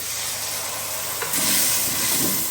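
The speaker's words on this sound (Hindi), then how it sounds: "अदरक लहसुन का पेस्ट जो है 1 टेबल स्पून हम डालेंगे इसमें" Ginger garlic paste sizzling steadily in hot oil in a pan, a bright continuous hiss that grows louder midway as it fries, with no talking.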